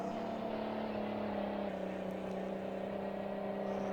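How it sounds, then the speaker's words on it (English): An old tractor engine in a farming video game holds a steady, high-revving drone, a constant loud hum with no pauses or changes in pitch. "Never get used to revving an engine that high."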